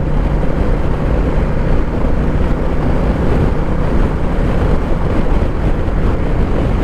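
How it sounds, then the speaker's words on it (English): Strong wind buffeting a rider on a Honda Rebel 1100 motorcycle along country roads, a constant loud roaring rush that fills the whole stretch without letting up. "the wind is so strong here."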